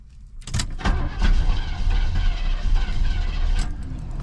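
A new car's engine cranking and catching, a brief starter whir followed by a steady, close, loud engine rumble that holds on to the end.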